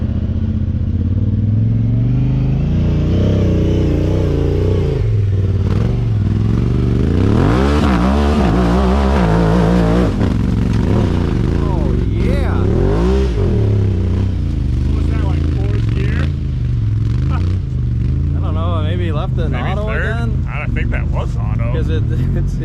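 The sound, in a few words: Talon side-by-side UTV engine revving on hill climb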